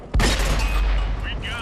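Tank cannon shot in World of Tanks on console: a single loud, sharp blast followed by a long rumbling decay, with brief tonal game sounds near the end.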